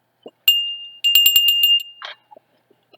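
A small bell rings several times in quick succession, bright and close, with sharp metallic strikes and a sustained ringing tone that fades into quiet, followed by a few soft handling clicks.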